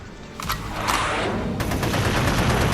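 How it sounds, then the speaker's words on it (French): Machine gun fire in an audio drama: rapid bursts crackle loudly and continuously, building into a sustained roar of automatic shooting. "que Lance, armé de son énorme mitrailleuse, détruisit un à un"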